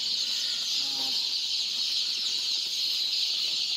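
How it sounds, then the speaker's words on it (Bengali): A large batch of day-old Sonali chicks on a poultry farm make a dense, continuous chorus of high-pitched cheeping. The chirping is steady and unbroken, with a brief lower cluck near the start and no voices. "এই খামারে আজকে 1500 পিস সোনালী মুরগির বাচ্চা দেওয়া হলো"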